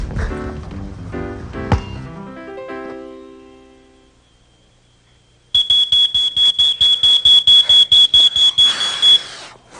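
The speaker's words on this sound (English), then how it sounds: "A smoke alarm can save your life." A loud, piercing smoke alarm beeps in rapid repeated pulses after a few seconds of musical notes fading out, the beeping continuing to the end.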